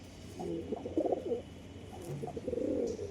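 Pigeons coo in soft, throaty bursts close by, several rolling calls overlapping across the stretch. The female is a pure mailbahi pigeon. No voices.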